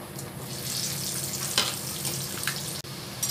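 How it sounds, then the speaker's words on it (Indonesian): Potatoes frying in hot oil give a steady, close sizzle and crackle in a home kitchen, with a few sharper pops and a brief clatter partway through. "Nah, ini kita panaskan, lalu kita akan goreng kentangnya."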